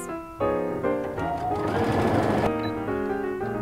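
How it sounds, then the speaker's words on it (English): A sewing machine stitches a fabric bag in short bursts, its rapid whirring motor starting and stopping several times up close. "you can just lay this down on your machine and sew pretty close"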